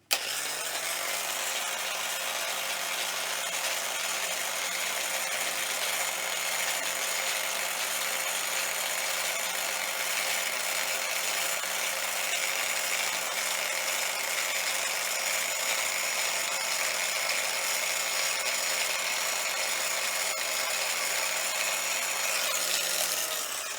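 A BIAX power scraper runs steadily while scraping the cross slide of a Myford ML10 lathe, a continuous bright mechanical buzz with a low hum underneath, close and unbroken throughout.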